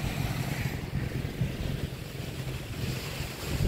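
Boat riding open sea near Naked Island, Siargao, with waves washing and wind buffeting the microphone in a steady rumbling wash, no talk.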